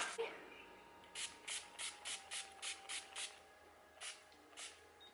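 A makeup setting spray pump bottle is sprayed in a quick run of about eight short hissing bursts, then two more spaced apart, close up with no talking.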